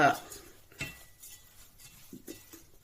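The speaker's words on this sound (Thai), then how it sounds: "ตอนนี้นี่ก็เคี่ยวน้ำตาลด้จ้ะเพิ่มสีสัน" Close-up scraping and clinking of a utensil against a pot as sugar simmers while being stirred for blackberry soy sauce, with soft faint sounds between a few distinct knocks.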